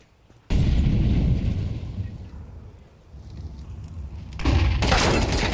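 Gunfire in a professional Counter-Strike match: a dense, loud volley erupts and continues, dips briefly, then surges again with heavier shots and booming blasts.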